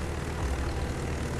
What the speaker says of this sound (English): I send out my attack planes next.